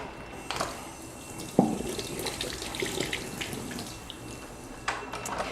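Vegetables such as lettuce, carrots and grapes are rinsed under a running kitchen tap, a continuous splashing flow broken by a few sharper splashes as the produce is moved through the stream.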